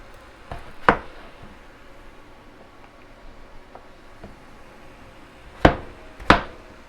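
A knife chopping vegetables for sausage, potato and cabbage soup: a few sharp, isolated knocks on a cutting board, one early and a close pair near the end, over a quiet kitchen background.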